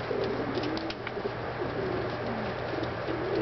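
Pigeons coo softly and repeatedly over a steady low background hum, with a few faint chirps mixed in.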